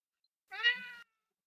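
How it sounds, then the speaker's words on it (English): A male house cat lets out a single clear meow, close and fairly quiet, alone in an otherwise silent room. "There's now a cat here."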